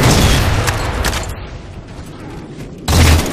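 Grenade spam in a Halo 4 Team Slayer match on Adrift, loud booming explosions and gunfire at the start, a decaying rumble in the middle, then another sharp blast near the end.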